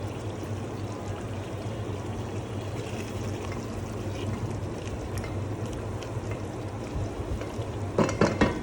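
Cooking cream poured over chicken rezala in a pan and stirred in, a soft steady pour and low sizzle with light utensil scrapes, ending in a burst of louder clatter from spoon against pan.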